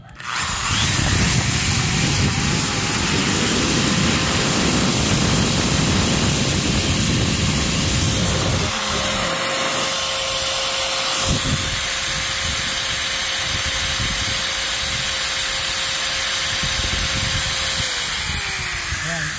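A corded electric drill plugged into a portable 50Ah LiFePO4 solar generator runs with a loud, steady whine that holds for the whole stretch and shifts in tone partway through. No one speaks over it.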